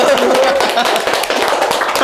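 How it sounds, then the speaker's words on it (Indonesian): A short burst of clapping at the start of a podcast, several hands clapping fairly close in a quick uneven patter, with a voice mixed in. "Tepuk tangan dulu, para bocah tepuk tangan dulu."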